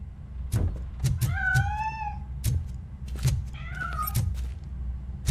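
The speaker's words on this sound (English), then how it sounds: "That cat must be hiding inside." A cat in the RoboCop: Rogue City video game meows twice in drawn-out, rising-and-falling cries, amid scattered knocks and thumps as it escapes, with no voices.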